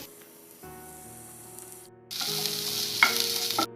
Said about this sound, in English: Roast the onion.